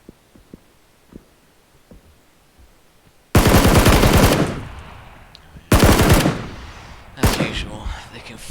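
Automatic gunfire from a video game: three loud sustained bursts of rapid fire, each a dense rattling stream of shots, the first lasting over a second before tailing off, with quiet sparse clicks beforehand.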